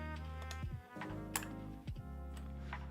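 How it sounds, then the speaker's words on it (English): Keystrokes on a custom-built mechanical keyboard clatter in quick irregular bursts, with sharp clacks standing out over steady tonal music playing in the room. "We're just gonna start typing."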